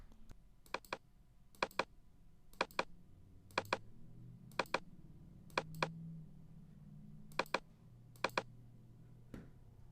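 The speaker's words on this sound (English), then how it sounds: "It really lets you know your audience when you're actually clicking the mouse and doing something." Computer mouse clicks during a ScreenFlow screen recording, about a dozen sharp, close clicks, mostly in quick double-click pairs spaced a second or so apart, over a quiet background.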